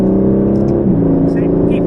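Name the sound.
Aston Martin Vantage accelerating on Silverstone circuit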